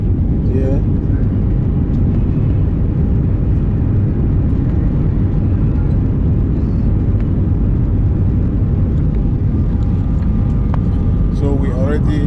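Cabin noise aboard a United Nigeria Airlines airliner in flight from Abuja to Owerri: a loud, steady low rumble of engines and airflow, continuous throughout with a few faint clicks.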